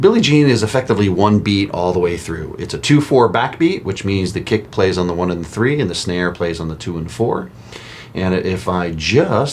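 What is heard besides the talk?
None of the usual background noises is heard.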